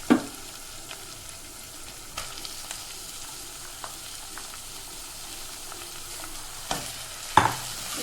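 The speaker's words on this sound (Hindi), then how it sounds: "दो 3 मिनट तक हम दाल को फ्राई करेंगे।" Soaked masoor lentils fry in a pan for bhuni masoor daal, giving a soft, steady sizzle while a spoon stirs and scrapes, with a few louder knocks against the pan.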